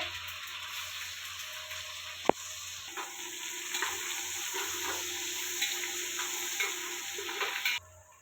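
Curry leaves and garlic paste sizzle in hot oil, a soft steady frying hiss with a sharp tap and scattered stirring scrapes, stopping abruptly at the end.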